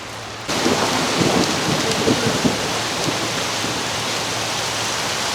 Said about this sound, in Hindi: एकदम बारिश शुरू हो गई यार,